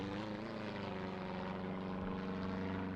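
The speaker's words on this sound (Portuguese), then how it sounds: "O helicóptero fretado pelos serviços florestais" A chartered forest service helicopter flying over a wildfire zone gives a continuous, steady engine and rotor drone that stays even throughout at a moderate distance, with no voices.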